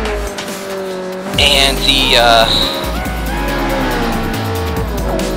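A Mercury Cougar race car in Forza Motorsport 4, its engine droning steadily with a brief screech of tyres near the start, under a word of speech.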